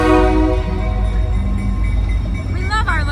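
Train passing an urban garden beneath a railway overpass, a loud steady rumble with rising horn-like tones near the end, heard under a person talking.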